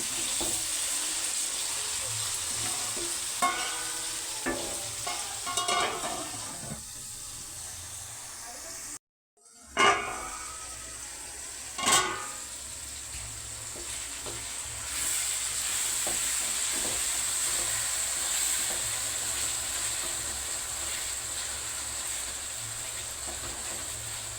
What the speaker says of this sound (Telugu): టమాటాలు కూడా కాసేపు మగ్గలిద్దాము